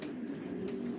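Breeding pigeons coo in a stud loft during the breeding season, a low, steady murmur of layered cooing from nearby birds with no voices over it.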